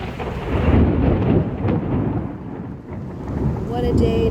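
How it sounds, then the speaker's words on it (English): Thunder rumbles through a thunderstorm outside a hospital, a loud, broad rolling roar that swells and eases over several seconds with rain noise beneath and no talking. "the thunder and lightning is going crazy"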